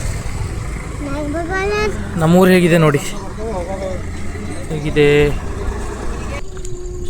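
Motorcycle ride carrying two people on a road toward a temple, with a steady engine and wind rumble running underneath continuous nearby talking.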